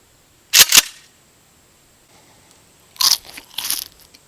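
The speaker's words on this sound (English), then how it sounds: "the sound of me eating some delicious Lay's potato chips" Lay's potato chips crunched close up in two separate sharp bursts of bites a few seconds apart, with near silence between them.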